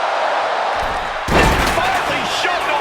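A wrestler's body slamming onto the ring steps in the WWE 2K26 wrestling video game, one heavy booming thud that cuts through the roar of the arena crowd and commentary.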